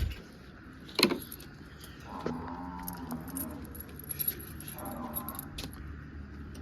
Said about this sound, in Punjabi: ਖੁੱਡਿਆਂ ਦੀ ਚਾਬੀਆਂ ਵੀ ਲਿਆਂਦੀਆਂ